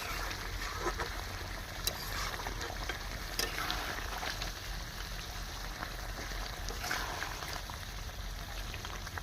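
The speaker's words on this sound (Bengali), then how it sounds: "আমি পুরো শুকনো শুকনো কষা কষা মাংস রান্না করছি" Meat being dry stir-fried in a pan on a clay stove, heard as a faint continuous sizzle with occasional scraping stirs and light crackles, recorded quietly with steady background noise.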